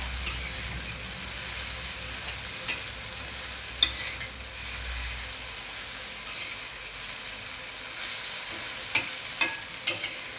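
Dry okra fry sizzles quietly in a pan as it is stirred, with a low continuous crackle and a few sharp spatula taps against the pan, no voices.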